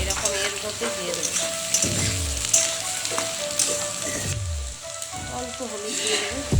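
Chopped onion added to partly fried potatoes in a pan sizzles loudly and steadily, with light scraping stirs and a faint voice in the background.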